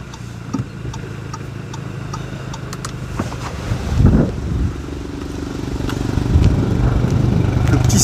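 Audi S3 engine idling while the car is stopped, with start-stop disabled, a low steady rumble with faint ticking, a brief swell near the middle, and the hum growing slightly fuller toward the end.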